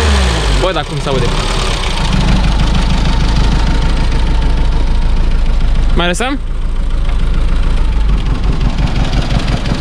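A 1991 Dacia 1310 Break idles with a steady, rumbling low drone. Voices talk over it close by, and a brief mechanical squeal rises near the end.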